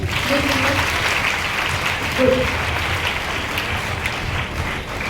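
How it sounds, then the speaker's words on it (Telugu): An audience claps steadily at a public anti-drug awareness event in a district, a dense round of applause with faint voices beneath it. "ఒక్కసారి క్లాప్ చేయండి"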